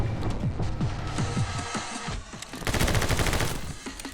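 Rapid bursts of Uzi fire crackle in the action game My Friend Pedro, a fast rattling string of shots with clattering impacts, loud and close, with a brief lull before a denser flurry.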